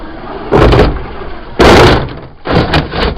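Traxxas TRX-4 Sport RC rock-crawler truck tumbling down from a tree, three heavy thumping impacts, the middle one loudest, with clattering between them.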